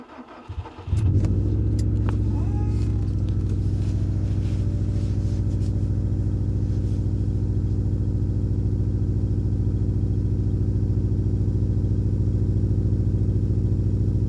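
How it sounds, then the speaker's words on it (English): A stock 2017 Subaru STI with 130,000 km starts on a cold winter day, heard from inside the cabin: a brief cranking catch, then a loud, steady idle drone with slight early unevenness. "you'll hear what the cabin noise of the engine actually sounds like"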